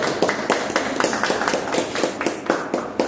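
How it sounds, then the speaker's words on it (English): A small group at a Toastmasters club meeting claps together, a close, steady patter of hand claps with no voices that continues for about three seconds. "Have a huge round of applause"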